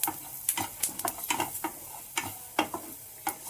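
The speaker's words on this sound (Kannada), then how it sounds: "ಮೆಂತ್ಯ ಹುರ್ಕೋತೀನಿ ಮೆಂತ್ಯ ಸ್ವಲ್ಪ ಚಿಚ್ಚಿಟಿ ಅಂದ ತಕ್ಷಣ ಅದಕ್ಕೆ ಕೊತ್ತಂಬರಿ ಬೀಜ ಹಾಕೊಬೇಕು" Fenugreek seeds roast in a hot pan, giving irregular dry crackles and little pops, with soft scraping as they are stirred, close and fairly quiet with no voices.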